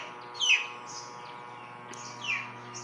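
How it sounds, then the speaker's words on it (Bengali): Two short, high pigeon chirps about two seconds apart, fairly close, over a steady low electrical hum. "তো আজকে আমি কবুতর এগুলো এখন ছাড়বো।"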